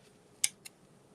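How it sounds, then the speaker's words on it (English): Small scissors trim thread ends on a kitchen craft project, two quick, crisp snips close by in an otherwise quiet room. "I'm going to take my little scissors again and just trim those off"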